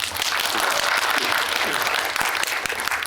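Cinema audience applauding at a Megabox COEX guest visit screening of a film, a dense steady wash of many hands clapping that fills the whole stretch at full strength without a break.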